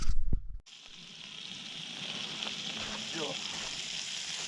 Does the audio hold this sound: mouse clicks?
no